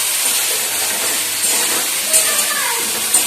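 Water poured into a hot pan of curry hissing and steaming, a loud continuous sizzling rush with a few sharper spits near the end.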